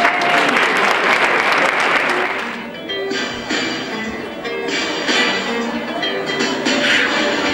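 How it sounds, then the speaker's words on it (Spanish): A school Christmas festival audience applauds four-year-old infant pupils before their song and dance, loud clapping that thins after a few seconds as music and chiming tones come in beneath it. "Un aplauso para estes artistas"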